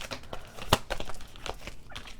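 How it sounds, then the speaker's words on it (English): A slippery deck of tarot cards being shuffled by hand, close crinkling riffles and scattered flicks with one sharp louder snap, no speech. "I hate shuffling this deck because things just fly out"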